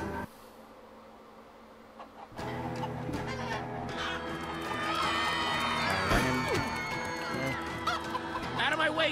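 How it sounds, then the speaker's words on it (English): Chickens cluck and squawk among busy Minecraft: Story Mode game sound effects and music, with a crowd-like murmur and voices talking over the top. "Out of my way, chickens!"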